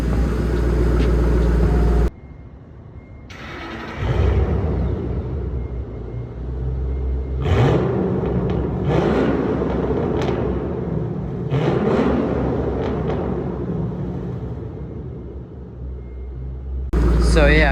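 A deep, rumbling 2010 Mustang GT engine with open exhaust revs aggressively in bursts, loud and close, with a brief quieter stretch early on before the throaty exhaust opens up again.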